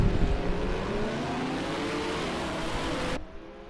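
A race car engine in a racing video game roars loudly and steadily in a dense, unbroken drone, then cuts off abruptly near the end.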